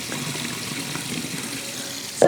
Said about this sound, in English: I'll rinse it one more time.